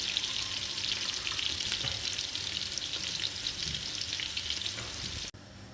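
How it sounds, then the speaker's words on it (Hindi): Onions fry in a pan until brown for nihari, giving a dense, continuous sizzle that is close and steady, with no voices, before cutting off abruptly near the end. "प्याज को ब्राउन होने तक के लिए छोड़ देंगे।"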